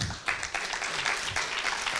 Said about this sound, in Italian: Io replichiamo l'applauso